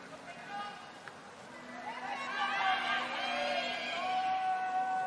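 Spectators at the men's 10m platform diving final of the 2019 FINA World Series in Beijing send up a crowd roar that swells midway and holds, with excited voices rising above the general noise.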